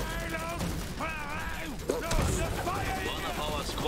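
Anti-mech gunners open fire in a strategy video game, with rapid bursts of gunfire rattling steadily under voiced unit lines and game chatter.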